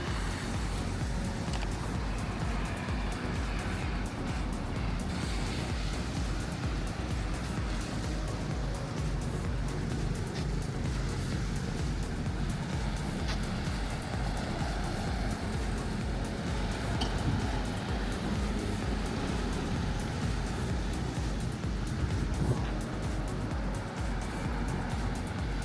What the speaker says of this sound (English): You can hear the ocean more clearly now.